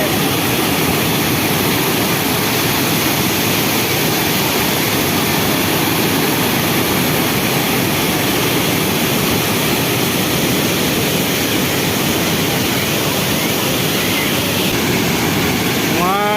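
Hemavathi river water pours over the Kunigal lake weir in a steady, loud, broadband rush that holds unbroken for the whole stretch, with no pauses or changes in level.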